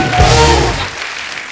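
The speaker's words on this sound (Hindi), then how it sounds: "जोरदार तालियां हो जाए।" Studio audience at a comedy talk show breaks into loud applause, a dense wash of clapping and cheering that swells, then fades over about a second and a half.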